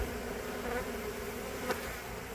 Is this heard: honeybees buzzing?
yes